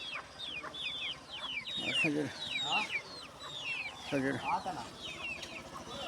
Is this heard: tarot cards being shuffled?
no